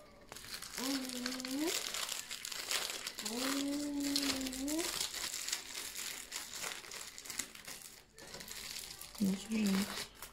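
Plastic packaging of a New Year watch crinkling and rustling as it is unpacked, continuous close crackling with a voice and an adult talking over it at times.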